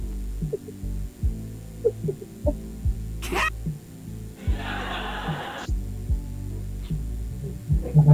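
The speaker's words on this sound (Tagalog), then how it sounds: "kasi ingay pala yung electric fan mo" An electric fan hums steadily and low with a faint throbbing pulse, joined by a short hissing burst midway and a few soft knocks; no one speaks.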